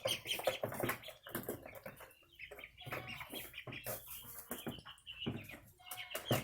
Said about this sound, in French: Aujourd'hui, j'ai transféré nos petits canards coureurs indiens.